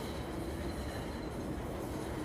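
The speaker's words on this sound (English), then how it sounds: "I got the train here, so give it a second there to roll by" A train rolls by outdoors during a car pressure-washing session, producing a steady, dense rumble and rattle of rail cars, constant and moderately loud throughout with no voices.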